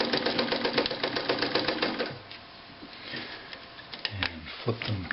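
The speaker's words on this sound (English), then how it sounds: "a very quiet machine even when it's sewing" A Morse DeLuxe zigzag sewing machine stitches in reverse with a quiet, rapid rhythmic clatter for about two seconds, then slows to faint scattered clicks and light handling noise.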